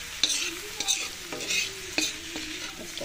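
Karela (bitter gourd) and spices are stirred in a frying pan over a steady, close sizzle, with a regular scrape of the spoon through the pan about every half second.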